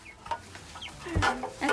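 Six-week-old Sapphire Gem chickens kept indoors cluck in a few short, close, moderately loud bursts with soft chirps between them.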